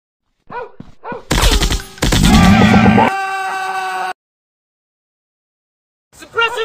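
Machine gun fire in an FPS commando shooting game arrives as loud, close bursts of rapid automatic shots, followed by a sustained ringing tone and then silence, with short spoken voice callouts before and after.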